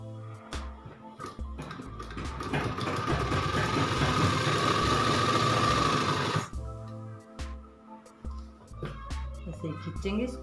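A sewing machine stitching a girl's midi dress runs in one steady, loud whirring burst of about four seconds, with someone talking before and after it.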